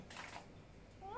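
A cat gives one short, faint rising meow near the end, under quiet background noise.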